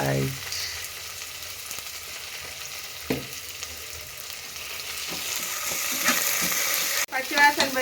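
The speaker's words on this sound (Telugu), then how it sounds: "పచ్చిమిరపకాయ అల్లం వెల్లిగడ్డ ఫ్రై అయింది కదా" Green chilli, ginger and garlic frying in a pan for red lentil khichdi make a faint, even sizzle, with a few light stirring knocks toward the end.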